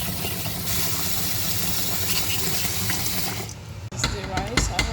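Running tap water while rinsing rice in a kitchen for jollof rice, a steady loud stream that shifts to splashing and sloshing near the end.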